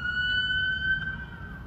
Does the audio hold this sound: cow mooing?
no